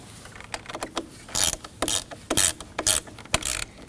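Ratchet tightening a battery terminal on a Ford Edge, a series of short metallic clicking bursts in uneven clusters, close and fairly crisp with brief pauses between pulls.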